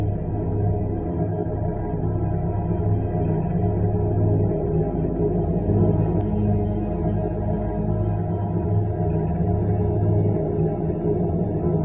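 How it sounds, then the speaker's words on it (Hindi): A mysterious Moon sound said to come from the Pragyan rover and Vikram lander of Chandrayaan 3: a quiet, steady low drone with layered humming tones and a faint hiss, continuous and without voices. "जिसे प्रज्ञान रोवर और विक्रम लैंडर ने चंद्रमा की धरती से भेजा है।"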